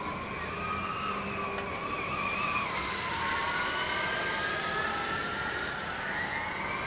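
A Formula Student race car from Brno approaches fast during an endurance event, its high engine whine rising and sweeping in pitch as it nears, steady and loud with no talking.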